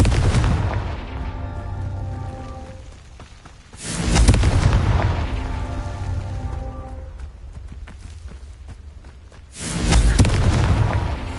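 Confringo fire spell explosions in the video game Hogwarts Legacy: two loud, booming blasts several seconds apart, each with a sharp onset and a rumbling decay, over a sustained tonal game soundscape.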